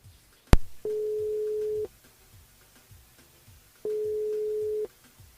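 Two long ringback tones sound over a phone line as a call is placed to a listener during a live radio broadcast, each tone about a second long with a pause between, following a short click.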